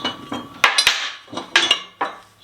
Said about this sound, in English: This is a transfer punch.